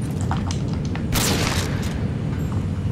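Frag grenade detonating in a shooter game: a single loud, broad boom bursts out about a second in and rumbles briefly over steady game background noise, with no talking.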